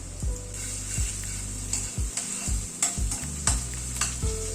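Green chillies and ginger paste frying with onion in a pan, a steady close sizzle broken by a series of scraping stirs of the spatula against the pan.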